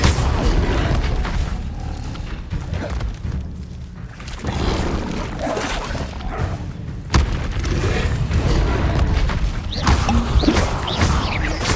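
Incendio fire spell cast in Hogwarts Legacy, a loud, continuous rush of crackling, booming magic and clattering effects with several sharp impacts throughout.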